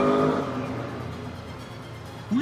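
A fast car in Dubai near a marina revs, its engine roar loud at first then fading away as it pulls off, with a brief renewed burst at the end.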